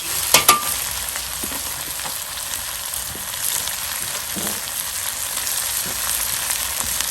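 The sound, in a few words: stir fry sizzling in Lodge wok on Weber charcoal grill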